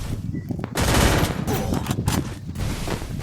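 Rapid automatic gunfire in the mobile game Free Fire, loud close bursts of rattling shots separated by brief gaps, with faint voices under the firing.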